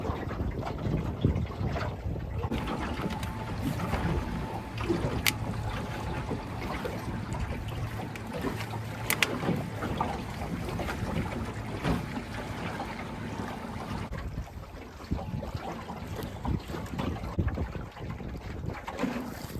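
An ePropulsion electric outboard motor drives a small boat with a faint steady whine, under wind buffeting on the microphone and the wash of water against the hull, continuing unbroken.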